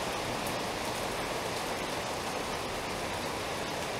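Steady rain pours down as an even, unbroken hiss, fairly soft but continuous, with no voices and no distinct drops standing out.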